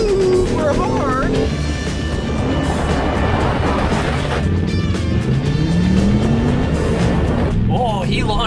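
A BMW i8 launches hard from a standstill and accelerates, its loud drivetrain rising in pitch through hard upshifts while people talk excitedly over the noise.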